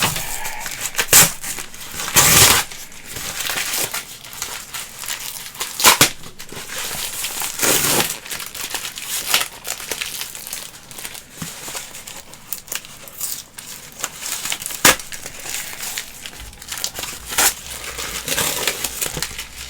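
Packing tape rips and crackles off a cardboard box in several loud, sharp tears, mixed with crinkling and handling noises, close by and without speech.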